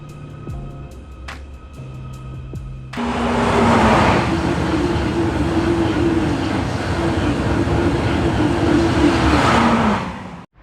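Merseyrail Class 777 commuter train running through Liverpool, starting as faint background noise and then turning into a loud, steady rumble with a sustained motor whine, alone with no voices.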